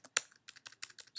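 Computer keyboard keys tapped in short bursts while a git command is typed, close and fairly quiet, with one sharp louder keystroke near the start followed by an irregular run of lighter clicks.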